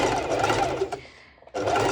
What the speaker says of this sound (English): I will do a zigzag stitch